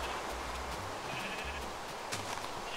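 Brown sheep in Minecraft bleat repeatedly, several short nasal bleats overlapping in quick succession over a steady game background, fairly close and clear, no talk.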